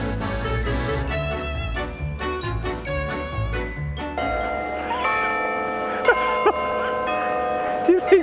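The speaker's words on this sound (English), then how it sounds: "that bell ringer must be on a good wage because it's been going quite some time" Church bells ring continuously, repeated tolls layered with overtones and sustained in a steady peal, with voices talking beneath them.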